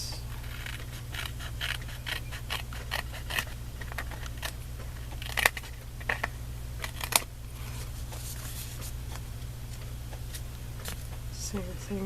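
Scissors trimming excess paper from a recycled Christmas craft, heard as quiet snips and light paper crinkles scattered over a low steady hum, while someone talks.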